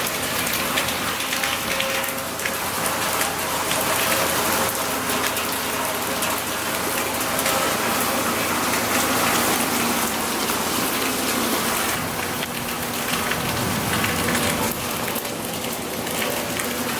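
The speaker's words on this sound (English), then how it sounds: "Alright guys, still raining. It's been raining all night" Heavy, steady rain pours nonstop through a hurricane night in Baytown, Texas, a loud dense hiss with gushing runoff and no pauses or voices.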